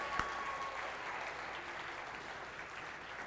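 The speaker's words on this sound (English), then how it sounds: "Could you give a round of applause for your neighbor for how hard they work and" A church congregation applauds together at an evening vision event, a steady, dense wash of clapping that holds at an even level for the full stretch with no voices over it.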